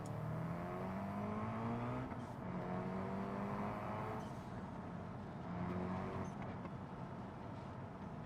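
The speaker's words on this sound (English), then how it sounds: "you're in a drift car, mate." A drift car engine in BeamNG revs and whines in rising, repeated sweeps, steady and fairly faint, with no talk over it.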